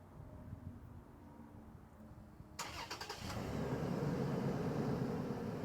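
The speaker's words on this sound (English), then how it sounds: "the first thing we're gonna do is turn on the car" A Toyota 4Runner engine cranks with a short burst of clicking, then catches and settles into a steady, loud idle.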